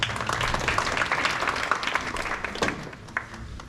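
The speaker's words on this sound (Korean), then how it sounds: "뜨거운 박수 부탁드리겠습니다" An audience at a National Assembly policy forum claps for a speaker, a dense, uneven burst of hands that thins and fades toward the end.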